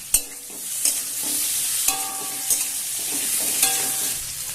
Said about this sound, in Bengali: আমি ডাকনাটা খুলে আলুটা একটু নাড়াচাড়া করে দিচ্ছি